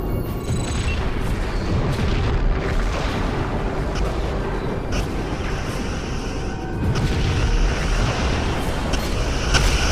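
A Romulan vessel blows up in the space game Star Trek Legacy, a loud sustained rumbling boom with crackling debris that stays dense and roaring for several seconds.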